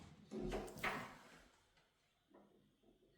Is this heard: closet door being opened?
yes